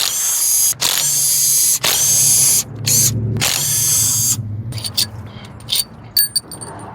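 A hand ratchet, likely on a 13 mm socket, loosens an AC compressor bolt on a Ford Ranger during an engine pull, loud close ratcheting bursts broken by short pauses, ending with a few sharp metallic clicks and clinks.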